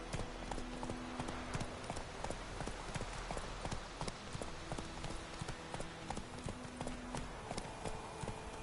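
Horse hooves clip-clop in a steady trotting rhythm throughout a medieval fantasy video game scene played on PS4, close and constant, with a low musical score beneath and no voices.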